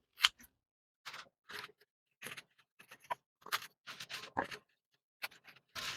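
Scissors snip lettuce leaves from a pot in a quiet series of crisp, irregular cuts, about a dozen close clicks separated by short pauses.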